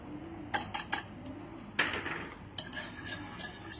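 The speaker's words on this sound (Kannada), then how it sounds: "ಸೊ ಇದನ್ನು ನಾವು ಸ್ವಲ್ಪ ವಿಸ್ಕರ್ ಸಹಾಯದಿಂದ ಈ ಥರ ಡೈಲ್ಯೂಟು ಮತ್ತು ಸಮವಾಗಿ ಮಾಡ್ಕೋಬೇಕು" A spiced mixture of red chilli powder and coriander powder being stirred in a bowl with a whisk, giving a run of sharp metallic clinks and scrapes in quick clusters, close and fairly quiet, no one talking.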